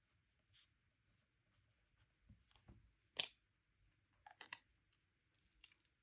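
A Kaweco fountain pen with a medium nib writes on paper, producing faint, sparse scratches and light taps in short bursts against a quiet background.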